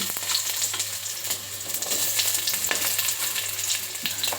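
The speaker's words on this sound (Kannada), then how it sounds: "ಬೆಳ್ಳುಳ್ಳಿ ಶುಂಠಿ ಸೋಂಕಾಳು ಚೆನ್ನಾಗಿ ಫ್ರೈ ಮಾಡ್ಕೊಳ್ಳಿ" Onion, garlic, ginger and fennel seeds frying in hot oil for a field bean sambar, a steady close sizzle with occasional stirring scrapes and a constant low hum underneath.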